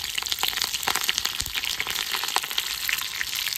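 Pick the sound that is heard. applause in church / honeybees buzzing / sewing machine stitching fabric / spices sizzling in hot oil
spices sizzling in hot oil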